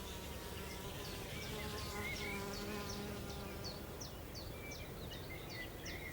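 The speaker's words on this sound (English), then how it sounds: "wide awake, though, the hummingbird hawk moth" A hummingbird hawk moth hovers at meadow flowers, its steady wing buzz running continuously at moderate level with faint bird chirps repeating in the background.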